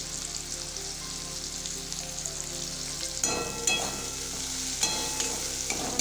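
Chopped onion and ginger fry in oil for a chicken stew, a steady close sizzle that grows busier with crackles and stirring scrapes partway through, and no talking.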